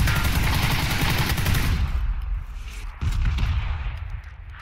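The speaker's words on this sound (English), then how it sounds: "Somebody else is taking shots from outside." Rapid gunfire from the battle royale game PUBG rattles in a dense, loud burst that thins out after a couple of seconds, followed by a few scattered shots.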